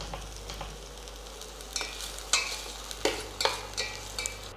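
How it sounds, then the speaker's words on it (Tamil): A carrot mixture for homemade sunscreen is stirred in a pan, giving a soft, steady scraping swirl with a faint sizzle and several light, sharper scrapes toward the end. No voices. "அதனால அதை நான் mix பண்ணிக்கிறேன் சோ நல்லா கொஞ்ச நேரம் அது நல்லா mix ஆகட்டும்"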